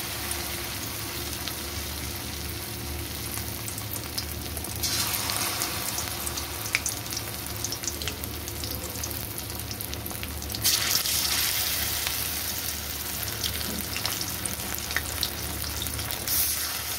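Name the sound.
lotte fish dipped in gram flour batter frying in oil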